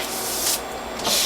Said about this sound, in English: with the wet brush I'll clean the front of this